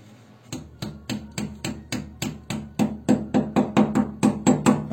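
Wall plugs are hammered into a wall with a steady run of about twenty sharp, evenly spaced hammer blows that get slightly faster and louder toward the end. The blows are close and clear, with no talking.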